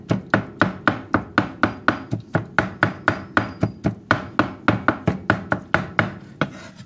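A cleaver chops prawn filling for har gow dumplings on a board, about twenty-five steady, evenly spaced knocks in a brisk rhythm, close and crisp with no voices.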